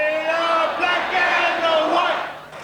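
Australian football fans at a 1990 Grand Final premiership celebration sing a loud, sustained chorus together, many voices blending in a continuous chant that carries steadily from start to end.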